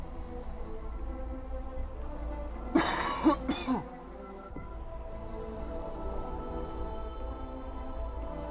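Coughing from a Shin Megami Tensei V Vengeance game: a short burst of two or three coughs in the middle, moderately loud above a quiet, steady musical background.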